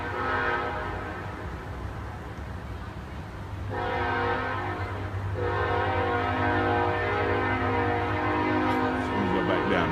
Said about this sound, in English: You can also hear one of the trains come through right now.